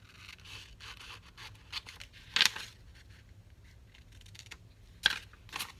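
Scissors cutting away material during a craft project, with two crisp snipping bursts standing out against soft rustling and handling noise in a quiet room.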